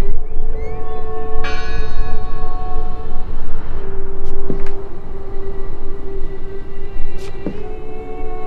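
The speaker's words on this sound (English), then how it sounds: "I heard the bell!" Church bell ringing in the horror game Draugen, a steady sustained toll with strong ringing harmonics and a couple of sharper strikes, loud against a low rumbling ambient bed, with no talk over it.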